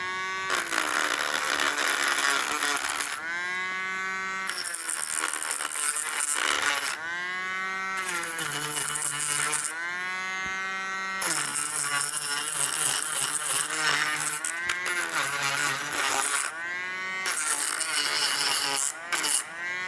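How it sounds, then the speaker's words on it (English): A Dremel rotary tool grinding rust off metal: a loud, close whine that dips and climbs in pitch as the load changes, run in several bursts with short pauses between them, with no talking. "This is grinding away the kind of uck without grinding away the metal."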